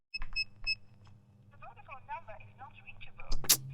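A phone is dialed, with a few short beeping tones followed by a warbling ringing or connecting signal, faint and close, then a sharp clatter at the end.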